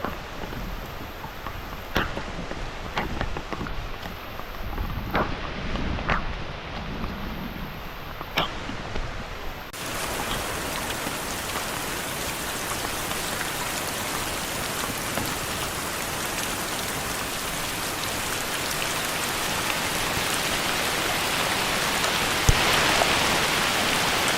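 Heavy rain falls in a forest during a hike, first as scattered drops pattering on nearby surfaces and then as a dense, loud, steady downpour that hisses continuously and grows more intense toward the end.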